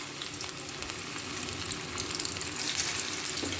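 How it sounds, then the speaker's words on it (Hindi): Cornflour-coated fish fillet pieces fry in hot oil with a dense, crackling sizzle that swells slightly louder toward the end, with scattered pops and spatters and no voices. "अब इसको हम ऑयल में तलते हैं।"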